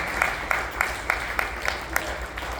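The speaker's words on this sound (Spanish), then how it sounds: "Un aplauso fuerte al Hijo de Dios" A church congregation gives a strong round of applause to God, with evenly spaced rhythmic claps over a crowd murmur.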